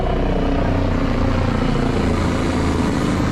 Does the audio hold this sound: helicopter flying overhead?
yes